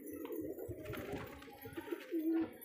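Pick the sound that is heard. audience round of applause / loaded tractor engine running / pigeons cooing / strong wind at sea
pigeons cooing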